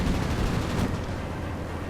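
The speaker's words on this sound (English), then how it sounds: "The plane has a 37mm cannon" A World of Warplanes aircraft's 37mm cannon fires rapid, dense bursts of heavy fire, loud and close, with a rumbling low end that trails off into a steady roar.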